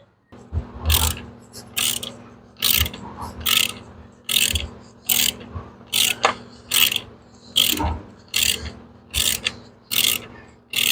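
A ratchet wrench tightens a new bolt into a 45-degree chair swivel during a rebuild, giving about a dozen loud, close clicking bursts in a steady back-and-forth rhythm.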